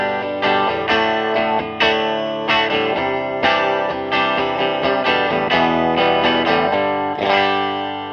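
An electric guitar played clean through a pedalboard into a Marshall JCM800 amp rings out in strummed chords and picked notes with sustained harmonics, loud and steady with no talking.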